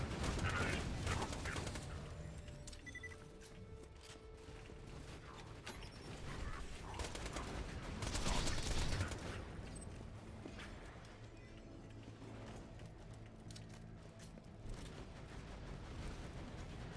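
Autogun fire in the shooter game BorderQuest, a sustained mechanical clatter of rapid shots running through the whole stretch amid dense game noise, swelling around the middle.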